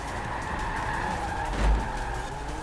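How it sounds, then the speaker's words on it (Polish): A Datsun car drives and skids in Forza Horizon 4, with a steady engine drone and tire noise and a brief surge near the end as the slide peaks. "zobacz jak tym Datsunem pomykam"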